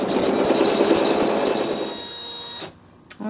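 A sewing machine stitching the corners of a hunter star quilt block: a fast, steady mechanical whir and needle patter for about two and a half seconds, then it stops with a couple of small clicks.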